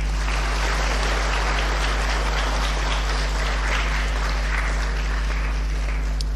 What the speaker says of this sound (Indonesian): Tepuk tangan untuk Bu Dewanti.